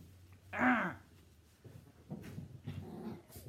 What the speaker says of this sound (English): You, you'll probably hear her growling at her toys.